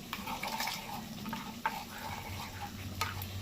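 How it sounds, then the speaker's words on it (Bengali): Sugar stirred into a yogurt pointed gourd curry (doi potol) in a pan, a steady close scraping and stirring with soft sizzling underneath and a few sharper clicks of the spoon against the pan. "এবার এর মধ্যে দিয়ে দিচ্ছি চিনি যেহেতু টক দিয়ে যাচ্ছে একটু ব্যালেন্সের জন্য চিনি তো যাবে এবার এটাকে মিশিয়ে নেব"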